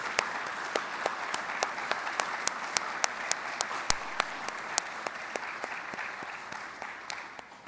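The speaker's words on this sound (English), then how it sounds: "let's have one more round of applause for our graduating seniors" Steady applause from a crowd at an armed services awards ceremony, a dense patter of clapping with sharp individual claps standing out, holding level before tapering slightly at the end.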